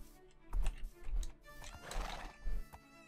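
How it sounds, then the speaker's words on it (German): A Minecraft horse whinnies and neighs several times amid hoof clip-clops, with bright game sound effects layered over it. "Jetzt haben wir ein Mini-Pferd."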